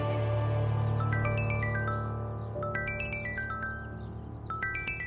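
A mobile phone ringtone plays a bright, repeating melodic chime over a low hum in a drama scene, the descending note pattern recurring several times, with nobody speaking.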